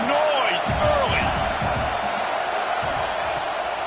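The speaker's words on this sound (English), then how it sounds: "This crowd bringing the energy and noise early." Crowd noise fills a stadium at a Clemson football game, a loud, continuous roar with a few whoops and claps underneath a commentator's voice.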